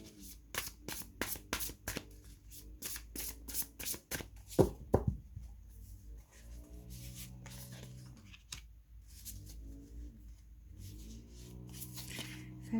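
Tarot cards shuffled by hand in rapid riffles and flicks, close and crisp, with soft rustling in the pauses and a few low murmurs of sound in between.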